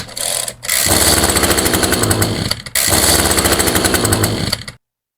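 An Echo small engine with the choke on, started in a cold garage, pops to life in two loud, close bursts of rapid rattling firing separated by a brief break, then cuts out abruptly into silence.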